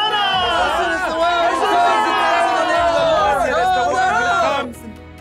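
A large crowd cheers, chatters and whoops as Jesus arrives in a dramatized reading, the dense continuous roar of voices filling the scene before breaking off abruptly near the end.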